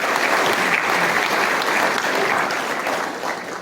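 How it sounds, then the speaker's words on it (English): A dense, steady wash of audience applause honouring a woman at a family gathering carries on without a break and eases off slightly toward the end, with no one speaking over it. "Why don't we clap for this hero,"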